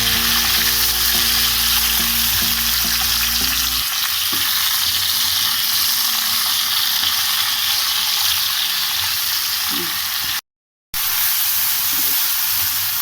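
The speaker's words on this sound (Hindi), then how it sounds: "तेज आंच पे आपने इसे फ्राई करना" Cauliflower frying in a pan over high heat for a shahi gobhi sabzi, a loud continuous sizzle with stirring scrapes; a low hum fades early and the sound cuts out briefly near the end.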